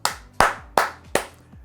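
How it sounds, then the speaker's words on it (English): Four sharp hand claps ring out in an even rhythm, close and loud, each with a short decay. "That's a clap there."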